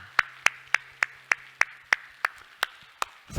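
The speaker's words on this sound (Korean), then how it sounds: "우리 하나님께 영광의 박수합시다." A congregation in a church gives slow, steady unison claps, about a dozen evenly spaced sharp hand claps led together, fairly close and clear with no talking over them.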